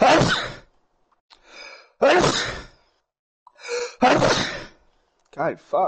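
Sneeze from a person during a 3v3 Gunfight gaming session, sharp bursts among loud close speech and exclamations, with gasps and breathy sighs between them.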